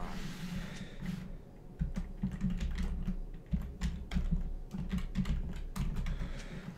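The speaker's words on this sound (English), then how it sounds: "Sorry if you can hear my keyboard scraping across." Steady computer keyboard typing close up, a continuous clatter of rapid key taps with a low hum underneath.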